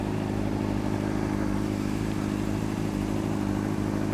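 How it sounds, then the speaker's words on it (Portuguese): A red Honda CBR 600RR motorcycle engine running, a constant loud, buzzy mechanical drone with a steady low rumble, close by and unbroken, with no talking. "essa moto, o ronco dela é muito bonito"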